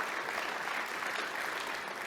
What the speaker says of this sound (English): Round of applause to our team for delivering this.